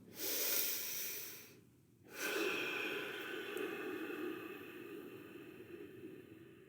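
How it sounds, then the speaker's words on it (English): A person inhales through the nose with lips shut, giving a close, airy hiss of restricted breath. A louder intake is followed by a short pause, then a longer, steadier in-breath, with no talk. "You breathe in, and there's a noise when you breathe in as well because of that restriction."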